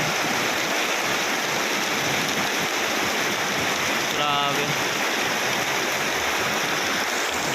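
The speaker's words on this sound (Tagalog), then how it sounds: "sobrang lakas na po ng ulan. Halos hindi humihinto." Heavy rain pouring in a dense, steady roar that never lets up; a single short spoken word cuts in briefly midway.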